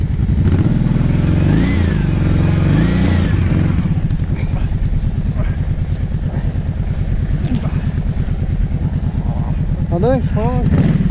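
Kawasaki KVF 750 Brute Force ATV stuck in snow, its engine revving loudly and continuously close by with wavering pitch as the wheels try for grip, while people talk over it.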